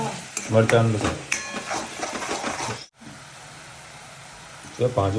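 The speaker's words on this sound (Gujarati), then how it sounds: "ચલો હવે અત્યારે તેલ ગરમ થઈ ગયું છે, હિંગ નાખી દીધી છે અને ડુંગળી મિર્ચ રેડી કરી દીધી છે" Chopped onion and chillies hit hot oil seasoned with asafoetida and sizzle steadily while being stirred. A voice speaks over the sizzling at the start and again near the end.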